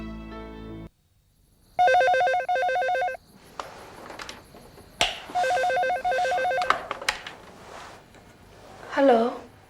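A telephone rings in two loud electronic bursts of repeating tones, separated by a pause, in an indoor scene of a Hindi TV drama. Faint background sounds run between the rings, and a short voiced sound comes at the end.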